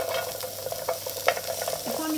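Chili green beans sizzling on low heat in a frying pan, a steady close crackle with scattered stirring clicks and scrapes of the pan, no voices.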